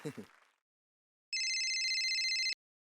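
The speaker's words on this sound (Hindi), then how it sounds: "एक मिनट, फोन आया।" A brief voice, a pause, then an electronic phone ringtone trilling steadily for about a second before cutting off.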